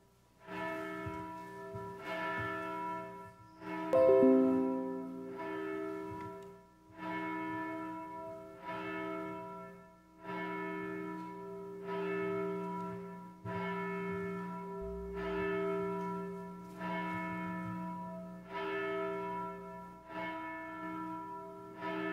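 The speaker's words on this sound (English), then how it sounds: "Our bell will call us to worship" A church bell tolls steadily to call people to worship, with about eight evenly spaced ringing strokes that ring and fade one into the next.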